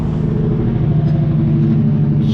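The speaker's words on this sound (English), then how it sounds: "Excuse the semi-truck, which is really loud." A loud semi-truck passes close by, a heavy, steady low engine rumble that holds strong throughout the clip.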